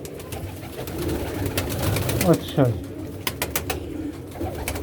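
Pigeons coo close by as they are let out of their enclosure, soft repeated calls over a busy background, with brief talking.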